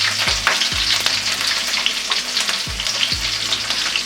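Crushed garlic with green and dried red chillies sizzles steadily in hot oil for a cabbage palya, with a few louder thumps as ingredients drop into the pan and a continuous close frying hiss throughout.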